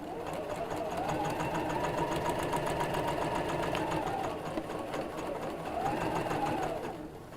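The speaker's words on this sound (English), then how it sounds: "and then just sew" Sewing machine stitching a quilted pouch, a close, steady mechanical whir in two runs with a brief slowdown between, fading at the end.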